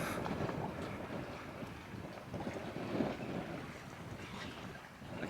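Steady gusty wind roars across the microphone outdoors near open water on a cloudless day in Clermont, Florida, a continuous broadband rush with slight swells and no voices.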